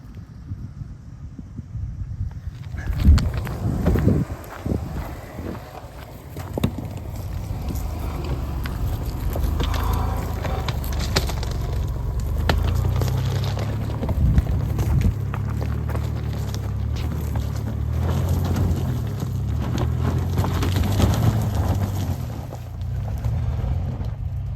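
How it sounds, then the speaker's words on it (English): A Jeep Liberty in 4 low, first gear, climbs a steep, rocky off-road hill, a continuous low engine rumble with wind buffeting and scattered knocks and crunches from the rough terrain. "We're gonna have to hit this root with a little bit of momentum here and see if we can get up in the Jeep."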